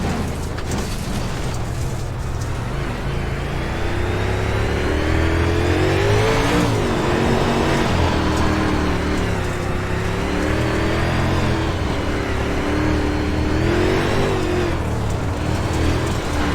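Modified race car engines in a racing video game rev steadily throughout, a loud, continuous mechanical roar with rising and falling pitch sweeps as the cars accelerate and shift, with no talking.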